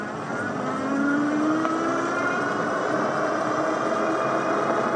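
VITILAN V3 2.0 folding fat tire e-bike riding on throttle only at assist level 4, a steady rising motor whine over continuous wind and tire rush, close and sustained with no talking.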